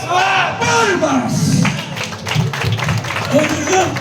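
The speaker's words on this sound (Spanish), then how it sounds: "¡Palmas!" A crowd at a huaylarsh dance performance in Viques, Peru claps along loudly and steadily, mixed with shouting voices and thumping close by.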